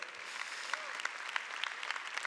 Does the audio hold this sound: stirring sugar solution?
no